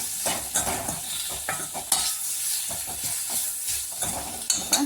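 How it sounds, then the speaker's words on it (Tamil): Spices sizzle and fry in a hot pan for bitter gourd tamarind curry, with a steady hiss and intermittent scraping stirs, fairly close and continuous. "ரெண்டு ஸ்பூன் சேர்த்துட்டு இதை வணக்கி விட்டுக்கலாம்"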